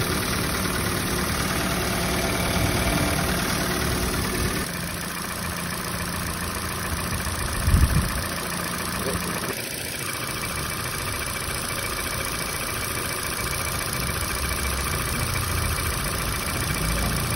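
A 2019 Ford Fiesta, with engine oil mixing into the radiator coolant, idles while it warms up. The drone is steady and close, with one brief knock partway through.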